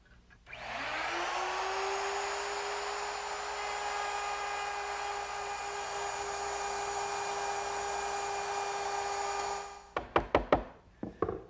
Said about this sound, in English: I just used my overarm router, which is now equipped with a 1/4 inch round nose bit